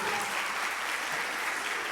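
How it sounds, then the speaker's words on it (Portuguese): A church congregation applauds, a steady wash of many hands clapping together at moderate level with no pause. "Você pode aplaudir?"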